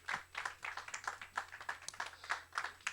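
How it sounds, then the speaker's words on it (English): Audience applause at an emerging leaders conference, a steady patter of many hands clapping at moderate distance, fairly faint, with a low hum underneath. "Let's give him a round of applause"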